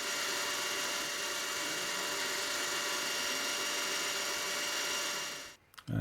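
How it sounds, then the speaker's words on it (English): A small drill running at 3200 RPM whines steadily as it bores a crosshair wire hole into metal, a constant high-pitched grinding hum that cuts off abruptly near the end as it breaks through. "now I'm drilling the first hole for the wire crosshair"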